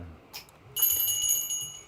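A timber-style bicycle bell rings briefly, a short faint ding followed by a louder, sustained bright ring that hangs for about a second, heard alone and close.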